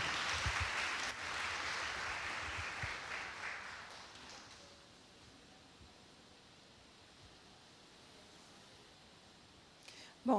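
Applause from a lecture audience welcoming a guest speaker, a broad wash of clapping that fades out after a few seconds and leaves quiet room tone.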